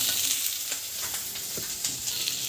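Asafoetida and spices sautéing in a pan, a soft continuous sizzle with faint stirring scrapes, steady and fairly quiet with no talking.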